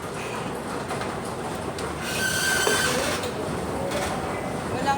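A Kuala Lumpur MRT train runs with a steady rolling rumble, a brief wheel squeal midway and a gentle surge in loudness. No voices are heard.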